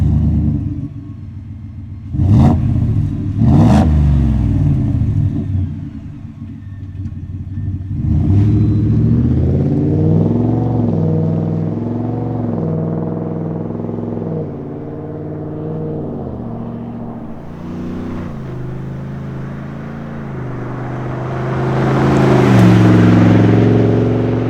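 A 2021+ Ford F-150 with a 5.0L V8 and MBRP 3-inch dual rear exit cat-back exhaust, with two sharp throttle blips followed by a steady low exhaust drone that rises and falls, swelling near the end.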